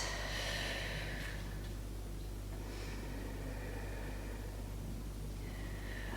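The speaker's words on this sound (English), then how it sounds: "Some nice deep breaths." Deep, slow breaths during a Pilates class, a few soft airy inhales and exhales spaced across a few seconds over a steady low background hum.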